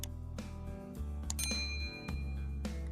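A bright notification bell dings once over steady background music, its clear ringing tone standing out for a moment before fading.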